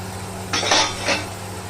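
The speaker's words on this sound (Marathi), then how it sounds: "आता मी काढून घेते प्लेट" Metal cutlery and dishes clink as a plate is taken out in a home kitchen while mackerel cooks, a few bright close clatters over about half a second, with no talking.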